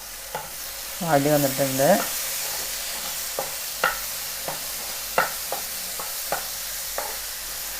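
Ripe jackfruit cooking in a covered pan is stirred with a spoon, a soft scraping sizzle near the start followed by a string of light, evenly spaced scrapes and taps, close and fairly quiet, with a few words spoken.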